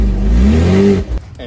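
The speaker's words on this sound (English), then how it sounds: "if you want to drive through a quiet village and you want to hear your exhaust, this actually helps to give a very fruity soundtrack" A Porsche 986 Boxster's exhaust revs loudly up close, the engine note climbing in a smooth rising surge before cutting off sharply.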